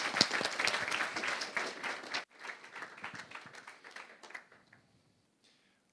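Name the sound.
audience applause at a conference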